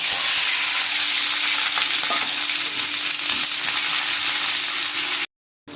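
Onions and green chillies sauté in hot oil in a pan, giving a steady, close sizzle with stirring throughout before cutting off abruptly into silence.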